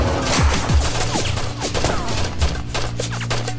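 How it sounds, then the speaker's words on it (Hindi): Gunfire from several people rings out as a ragged run of loud cracks and bursts in a scene from a drama, with shots stacking up at an uneven pace and echoing against a noisy background. "सब लोग गोलियां चलाओ,"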